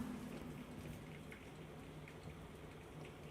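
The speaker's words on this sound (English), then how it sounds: "There's the biblical downpour that I was talking about." Steady heavy rain patters down continuously, a soft, even hiss of drops on surfaces with no voices, heard faintly from indoors.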